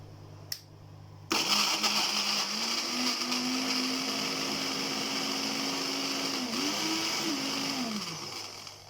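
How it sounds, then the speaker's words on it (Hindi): An electric grinder whirs into motion and blends garlic sauce with salt, a loud steady motor hum whose pitch shifts a few times before it winds down. "अब हम ग्राइंड करना शुरू कर देंगे इसको।"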